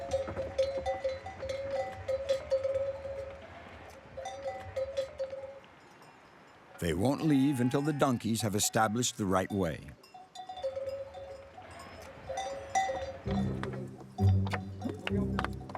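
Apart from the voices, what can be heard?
sheep and goats with cowbells on a mountain path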